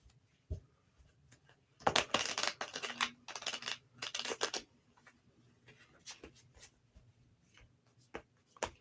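Tarot cards shuffled by hand in a quiet room, with bursts of riffling and flicking in short clusters and soft taps between them.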